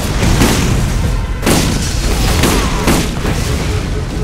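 Rocket explosions in the video game Borderlands, a series of loud, heavy booms with rumbling tails repeating about every second, close and dominant.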